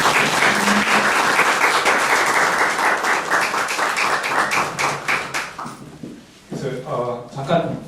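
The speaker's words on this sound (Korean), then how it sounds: "우리 큰 박수로 한번 환영해 주시기 바랍니다" A church audience gives warm, continuous applause to welcome a visiting professor, loud and even before tapering off, then a voice begins over the hall.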